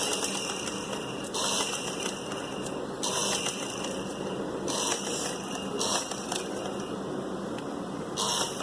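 A sewing machine stitches piping onto the slit of a kameez, running in short bursts of rapid mechanical whirring and clatter separated by brief pauses, close by and with no talk.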